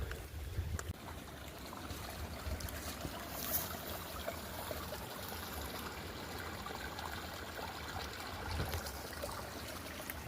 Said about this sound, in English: Beautiful water flow.